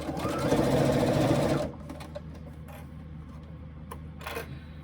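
A sewing machine runs a side seam at a steady, fast whir, loud and close, then stops abruptly partway through, leaving small clicks and a quiet hum.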